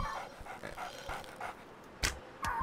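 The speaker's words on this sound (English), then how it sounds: "That there is a level 2 lion dog." A lion dog creature in the CHKN video game gives panting breaths and short yelping barks, moderately loud and close, in an irregular rhythm with no talking.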